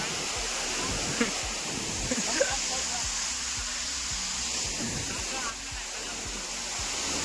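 A steady rushing roar of a tall waterfall, Manche waterfall in Devgad, Sindhudurg, fills the clip in the rain, with a few faint voice-like bursts and thumps beneath it.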